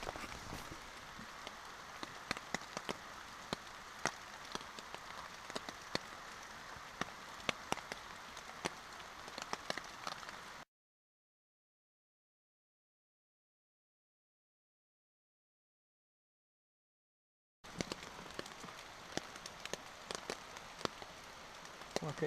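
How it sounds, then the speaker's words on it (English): Steady rain patters on a surface outside, heard up close from a hammock on an overnight trail in the Cohutta Wilderness, with scattered louder drops through a constant hiss and a stretch of silence in between. "here I am checking out the rain, just watching it rain."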